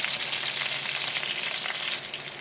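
Liver frying in a hot pan for igado, a dense, steady hiss of sizzling oil that fades slightly at the end, with no talking.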